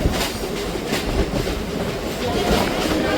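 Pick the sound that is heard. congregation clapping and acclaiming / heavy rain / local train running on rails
local train running on rails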